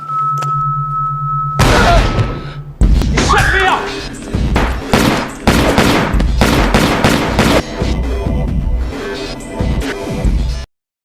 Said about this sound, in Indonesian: Saat itu juga baku tembak pun tak terelakkan.